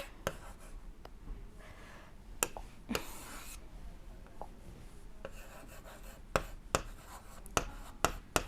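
A teacher writes notes during a biology lesson on photosynthesis, giving scratchy pen or marker strokes with several sharp taps that grow more frequent toward the end, close and moderately loud with no talk.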